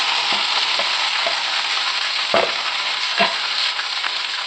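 Curry leaves and sliced garlic fry in hot sesame oil for a beef liver dish, giving a steady close sizzle with a few soft stirring clinks and pops, and no talking.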